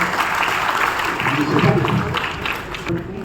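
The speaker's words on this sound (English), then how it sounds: "So, big round of applause." Audience applause at an NFMC annual general meeting: a continuous, moderately loud wash of clapping filling the room, fairly even throughout with a slight swell in the middle.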